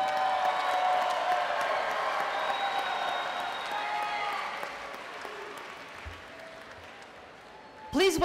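A convocation audience cheers and applauds MIS graduates of 2014, a dense, sustained wash of clapping and cheering that gradually fades, followed by a brief voice at the end.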